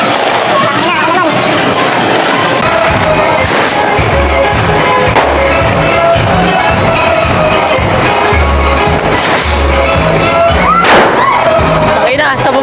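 Fireworks and firecrackers go off at a New Year celebration in a series of loud crackling bursts and pops over a dense, noisy background, with people talking throughout.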